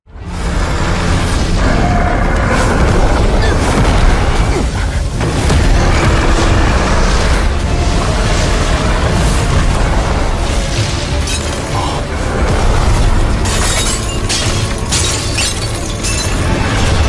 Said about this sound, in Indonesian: kepala besar piton menabrak penghalang energi yang sudah setengah remuk, membuatnya hancur berantakan